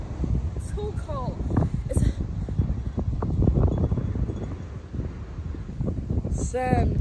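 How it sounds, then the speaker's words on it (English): Wind gusting at a beach on an overcast December day, a steady broadband rush buffeting the microphone under brief bits of voices and a few chirps. "It's very windy."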